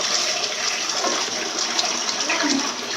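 Water runs steadily from a tap in a home kitchen while raw chicken is washed, a continuous close gushing and splashing stream with slight fluctuations and no speech.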